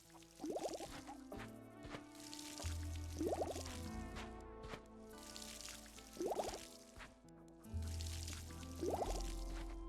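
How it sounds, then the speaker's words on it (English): Plant watering in Winemaker Simulator, a 17th-century vineyard game, plays as repeated splashing pours in four evenly spaced bursts, each with a rising liquid gurgle over a faint looping background. "you see how the water's not actually on the plant, but the plant is getting watered"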